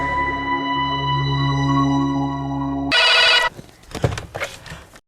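A telephone rings steadily for about three seconds during an outgoing call. A short bright burst and clattering room noise follow.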